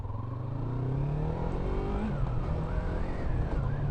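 Yamaha MT-03 motorcycle riding slowly at about 10 km/h in second gear, a close, steady low engine rumble with gentle rises and falls in pitch as the throttle shifts.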